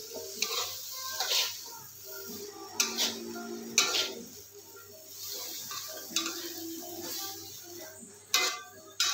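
A spoon scrapes and clacks through vegetables and soy sauce in a pan, in irregular bursts of stirring with brief louder knocks against the pan over a soft background hiss.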